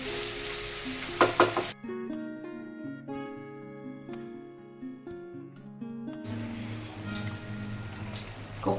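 Prawns for a chingri malai curry mixed and sautéed in a pan, sizzling with a few sharp stir clicks at the start, then a stretch of music replacing the cooking before the sizzle returns.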